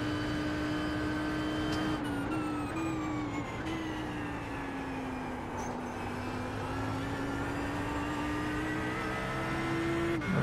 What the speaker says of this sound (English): And that's the lap around Sebring and the Audi.